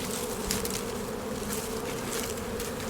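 A honeybee swarm buzzes around a hive as the bees crowd back inside. The hum is steady and dense, with individual bees droning close by, and no one speaks.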